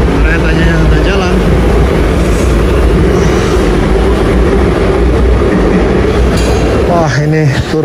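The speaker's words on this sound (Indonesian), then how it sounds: "keretanya udah jalan." Beijing MRT train underway, a loud steady rumble and rush of the moving carriage heard from inside the car, with a voice speaking over it near the end.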